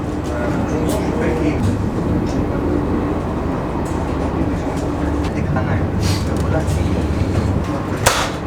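Inside a passenger train carriage on the overnight route from Zurich toward Croatia, a steady rumbling roar of the running train with faint rhythmic rattles and clicks, continuous and fairly loud throughout.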